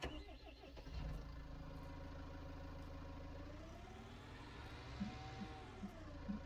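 A tractor engine in Farming Simulator 19 runs at a steady mid-pitched drone throughout, near and continuous, with a few light mechanical clicks toward the end.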